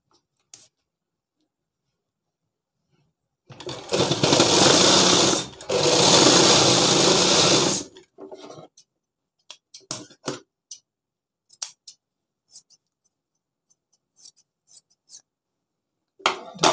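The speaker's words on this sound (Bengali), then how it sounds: "তো আমি এটা সেলাই দিয়ে করে নিচ্ছি।" A sewing machine stitching a shirt pocket runs in two loud, steady bursts of a few seconds each with a brief pause between, followed by scattered small clicks and handling noises of fabric and tools.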